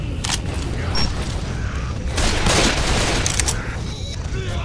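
Dense gunfire bursts from the zombie shooter Left 4 Dead 2, continuous and loud, with booming shots swelling around the middle, mixed with in-game voices calling out.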